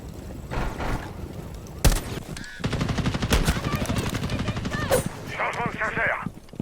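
Rainbow Six Siege gunfire, with bursts of friendly fire crackling loudly through most of the stretch while in-game voices call out over the shots.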